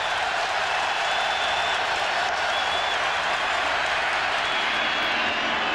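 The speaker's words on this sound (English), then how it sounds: "Crowd buzzing now." A football stadium crowd buzzing before a fourth-down play: a dense, steady roar of many voices that holds at an even, loud level throughout.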